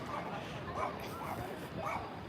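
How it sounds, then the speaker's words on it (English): Small dogs barking and yipping in a series of short, repeated yaps at a moderate distance within a busy outdoor transit center, mixed with background crowd noise and voices. "Little dogs."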